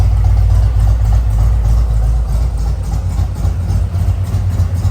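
A Harley-Davidson Road Glide with an M8 motor idles up to temperature, a loud, steady low rumble with an even throbbing pulse that runs throughout, close by and alone.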